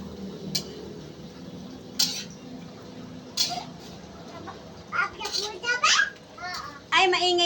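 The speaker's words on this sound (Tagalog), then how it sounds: "maingay lang po dito ang background natin kasi nga po yung mga bata ay makukulit at maiingay" Children shout and chatter in the background of a home kitchen while vegetables are cooked, with several loud bursts of voices and occasional clinks of dishes and utensils over a low steady background.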